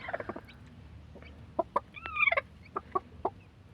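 A hen clucks in short bursts as chicks hatch, a few soft clucks followed by a rising squawky call, close by with pauses between.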